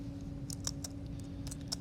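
Fingers typing on an iPad screen keyboard, producing faint, soft irregular taps spaced a fraction of a second apart over a steady low hum.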